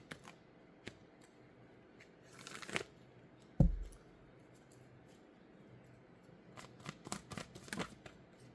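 Tarot cards shuffled by hand in quiet surroundings, soft riffling and papery flicks in scattered bursts, with a single sharp tap midway and a flurry of card sounds near the end.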